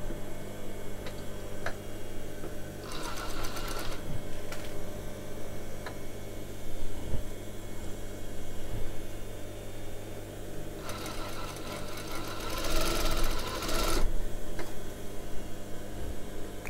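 A sewing machine stitches a seam of roughly 6 to 7 millimetres, its steady mechanical hum running throughout with two louder bursts of rapid stitching, near and without speech.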